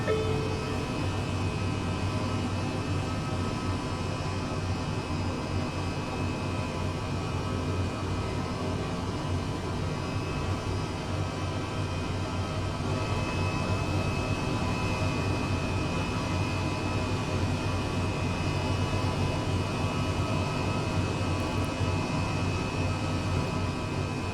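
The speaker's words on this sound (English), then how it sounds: "That was pretty quick engine shutdown" Eurocopter EC135 helicopter in Microsoft Flight Simulator 2020 spooling down after engine shutdown: a steady, broad turbine whine and airy roar holding at constant loudness, with faint tonal hums threaded through and no talking.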